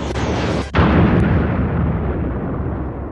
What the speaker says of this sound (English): To blow up the Death Star